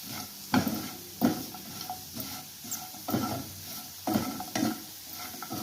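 Spice powder roasting in a pan on the stove for mutton curry, a light sizzle broken by regular scraping stirs about once a second, close and moderately loud.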